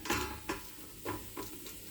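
Mustard seeds popping in hot oil in a pan for an ivy gourd thoran, a quiet sizzle broken by several sharp, irregular crackles and pops close by.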